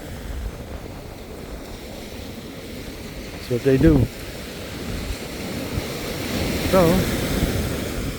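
Surf rolls steadily onto the shore at Caspersen Beach, Florida, with wind buffeting the microphone, and someone talks briefly over the wash of the waves.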